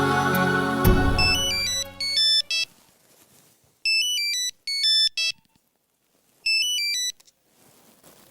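A telephone rings with an electronic ringtone in a domestic drama scene: a fading musical sting leads into several short bursts of bright, beeping melody, separated by brief silences.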